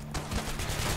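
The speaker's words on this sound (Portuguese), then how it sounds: "o tiro dos caras tá machucando muito" Police gunfire in the video game Hatred, a dense burst of rapid shots packed into one second, loud and continuous with no pause between reports.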